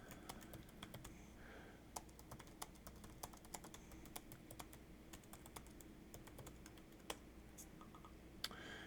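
Quiet, close typing on a computer keyboard, with a steady patter of light key clicks and a few sharper taps, and no voices.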